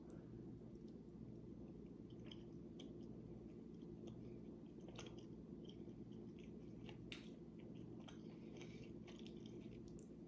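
Soft crunchy bites and steady chewing of green apple cinema sweets, quiet and close with scattered crisp snaps over a low background hum.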